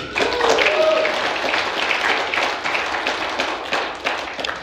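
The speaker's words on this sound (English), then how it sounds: "We're clapping for you, baby" Audience clapping for a couple's recovery milestone, a burst of hand claps and taps from a group that starts strong and carries on steadily with a few sharper claps near the end.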